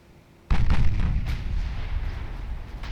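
Warship broadside gunfire in the naval video game Ultimate Admiral Dreadnoughts opens with a sudden heavy boom, followed by a rolling roar of further shots that slowly fades.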